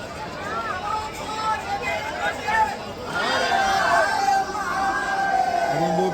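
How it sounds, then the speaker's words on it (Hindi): Dense crowd hubbub inside the Mahakaleshwar Shiva temple in Ujjain, a steady wash of many overlapping voices, chatter and occasional shouts close around, swelling louder in the second half. "हम भीड़ में फंसे हुए हैं।"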